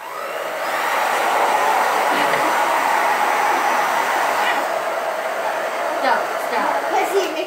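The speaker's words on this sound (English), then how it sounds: "This is the blow dryer!" A blow dryer running steadily near a dog, a loud continuous whooshing hum close by, with faint voices underneath.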